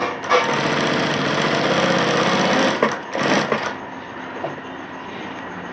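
A sewing machine hums close up in a fast continuous run while stitching a bottom strip backed with buckram, stuttering briefly before cutting off and leaving a quiet room.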